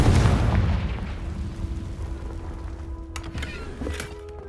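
A Confringo blasting spell detonates in Hogwarts Legacy: one heavy boom at the start, then a long rumbling decay that thins out, with a steady low hum and a few faint sharp ticks later on.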